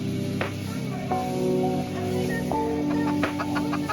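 Bantam chickens cluck at a farm resort in several short, separate calls, moderately close, over a steady background hum.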